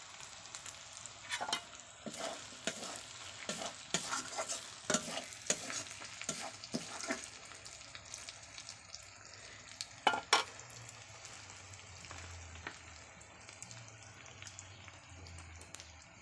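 Green chillies go into meat cooking in a pot over a wood fire, giving a soft, fairly faint sizzle with clusters of scraping stirs and a brief louder burst midway.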